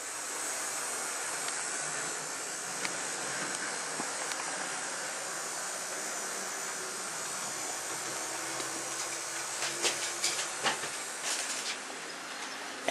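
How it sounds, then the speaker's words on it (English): A model locomotive pulling a long freight train rumbles and hisses steadily at a moderate distance, with faint clicking and a few brief metallic ticks toward the end. "it'll even pull a nice long freight train"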